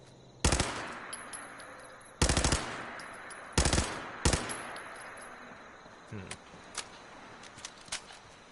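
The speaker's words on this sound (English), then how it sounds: "Now let's try the pipe submachine gun." Pipe submachine gun firing in the video game Fallout 4, heard as several short loud bursts separated by pauses, followed by fainter, scattered distant shots toward the end.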